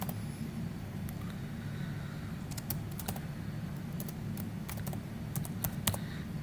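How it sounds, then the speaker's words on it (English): Typing on a computer keyboard: scattered bursts of crisp key clicks, some quick runs and single taps, over a steady low hum from nearby equipment, with no voices. "So here I just simply type New Delhi."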